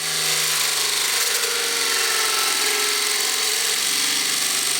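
Lego-built brushless motor spinning a blade through a scallion, a loud steady high-pitched whine and buzz running evenly for about five seconds with no voices.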